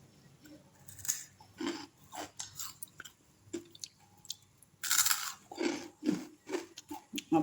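Someone bites into and chews crunchy fried beetroot and onion vadagam, giving a string of sharp, close crackling crunches in irregular bursts with short quiet gaps and no talking.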